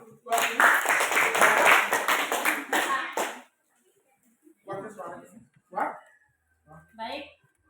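Classroom students clapping for a classmate, a loud burst of group clapping lasting about three seconds, followed by quieter voices talking.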